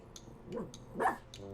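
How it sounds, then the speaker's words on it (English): A dog barks a few times in a home kitchen, the short, moderately loud yelps arriving in separate bursts with brief pauses between them. "Dog's really not happy."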